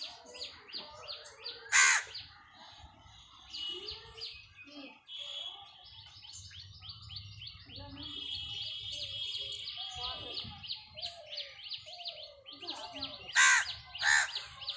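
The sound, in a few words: crows cawing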